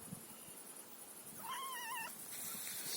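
A single drawn-out meow from a cat on a rural homestead, quiet and wavering, heard alone over steady background hiss.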